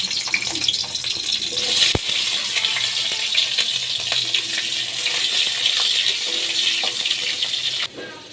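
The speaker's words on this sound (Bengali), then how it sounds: "আলুগুলো ভেজে নিচ্ছি" Potatoes frying in oil in a pan for a snakehead fish curry, giving a loud, steady, unbroken sizzle throughout that cuts off abruptly near the end.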